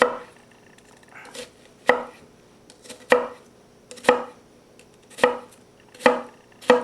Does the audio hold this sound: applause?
no